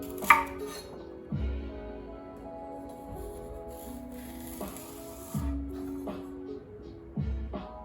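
A knife chops vegetables against a board in separate firm strokes every second or so, with a low steady hum in the background.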